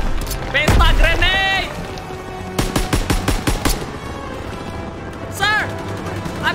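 A grenade goes off amid battle in Call of Duty WW2, with a loud boom near the start followed by bursts of rapid gunfire and shouted voices over the din.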